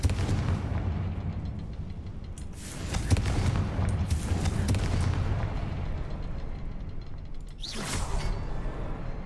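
In the Hogwarts Legacy video game, a Confringo fire spell goes off as a series of booming, whooshing blasts over a rumbling game soundscape, with a sharper burst near the end.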